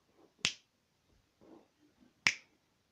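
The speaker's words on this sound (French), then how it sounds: "ça va tout changer d'emoji à chaque fois que tu fais un claquement de doigts" Two sharp, crisp finger snaps about two seconds apart, close and isolated, with faint soft rustling between them.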